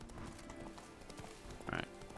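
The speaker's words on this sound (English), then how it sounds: "So let's go ahead and grab a ride on Roach again." Roach, the horse in The Witcher 3: Blood and Wine, galloping: faint, steady clip-clop hoofbeats repeat in a quick rhythm beneath a low game backdrop, with a brief brighter chime near the end.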